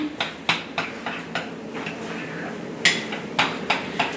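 Melted chocolate being stirred in a pot for almond butter cups, with a spoon knocking and scraping against the pot in irregular close clicks and taps over a soft background.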